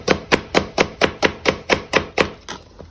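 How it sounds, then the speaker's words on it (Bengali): Knife chopping onions on a cutting board in a home kitchen, about eleven steady, evenly spaced chops, close and crisp, with no talk. "এখন তো পেঁয়াজ কাটো হয়ে গেল"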